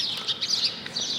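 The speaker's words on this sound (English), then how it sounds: "The birds are chirping." Birds chirp and tweet in a series of short, high calls at an outdoor lunch spot beside a cinema museum in Lyon, France, moderately close over a faint ambient background.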